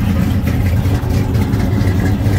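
A restored 1972 Chevrolet K10 Custom Deluxe 4x4 pickup with a replaced engine settles into a steady idle after the choke is kicked off, a close, continuous low rumble with an even, loping pulse.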